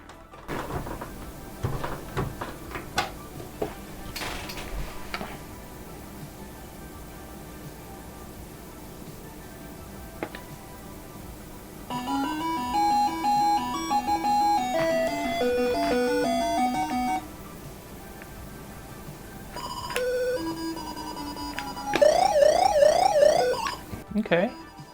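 Dig Dug on an Atari 2600 gives off bursts of beeping and buzzy electronic game tones, with a short melody and rapid chirps later on, under a low background hum.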